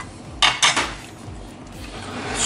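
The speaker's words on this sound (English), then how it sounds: "So now it's time to bake the banana pancake." Two quick metallic clinks of a pan and utensil ring out close by while a banana pancake is cooked in melted margarine, followed by a quiet kitchen background.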